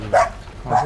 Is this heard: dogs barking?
yes